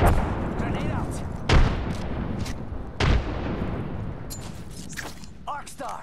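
Frag grenade blasts in a shooter video game, with two sharp, booming explosions about a second and a half apart among other game sounds, and someone talking through part of it.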